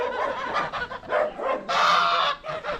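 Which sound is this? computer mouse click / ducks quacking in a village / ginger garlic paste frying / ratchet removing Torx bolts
ducks quacking in a village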